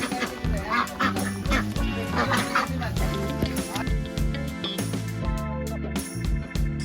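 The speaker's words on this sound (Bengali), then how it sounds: "হঠাৎ এতগুলো হাঁস চোখে পড়লো" A flock of domestic ducks quacking outdoors on a rainy day, a dense chorus of repeated harsh quacks from many birds at once, close and loud, continuing throughout with a few possible honks mixed in.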